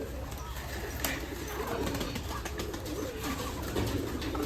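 Young pigeons coo softly in low, rolling calls, with faint rustling and background noise around them.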